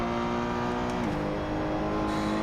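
A race car engine at Silverstone in Assetto Corsa drones loudly and continuously, its pitch dipping and climbing through gear changes, close and steady with no other sounds.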